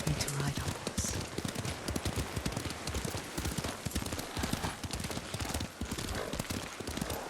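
A horse's hooves clip-clop in a steady, rapid rhythm as it is ridden in the Ghost of Tsushima video game, loud and close over a dense bed of game ambience.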